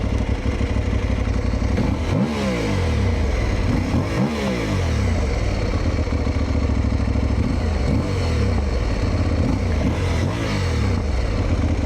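An Aprilia Tuareg Rally motorcycle with a titanium slip-on exhaust idles and revs close by, with a deep, throaty exhaust note rising in several short throttle blips over a steady rumble.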